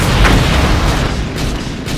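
Grenade launcher firing in an anime battle scene, a loud, dense rumbling roar of continuous booming blasts filling the whole stretch, with no talking over it.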